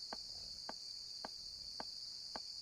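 Insect chirps in a dog-care video game, five evenly spaced short pulses about half a second apart, heard alone over a steady high background hiss.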